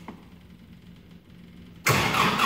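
A Kubota MX 5200 tractor's diesel engine catches after a quiet lull and settles into a loud, steady running roar close by for the last half second.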